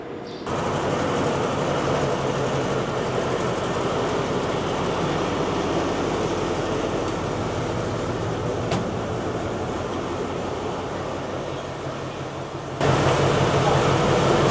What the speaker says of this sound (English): And now the train is almost leaving